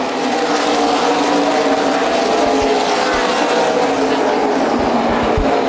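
Race cars in the 2010 CRA Super Series Rock N Race 100 at ORP in Indianapolis roar through the first turns at a restart, a loud, dense wall of engine noise with the pack close by and steady throughout.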